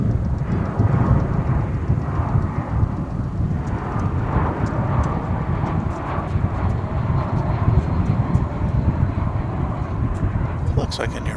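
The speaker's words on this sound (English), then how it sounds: "Looks like an Airbus A319 to me." An Airbus A319 roars at DFW airport, a loud, continuous low rumble of jet engines that swells and holds throughout, heard from fairly close by.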